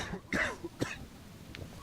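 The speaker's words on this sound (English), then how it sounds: "Cough, cough, cough." Two or three short, soft coughs in a quiet room, a light throat-clearing rasp among them, with a faint click at the end.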